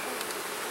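Honey bees crowd the side of a hive box, giving a dense, close, continuous buzzing drone for a brief moment, with no voices.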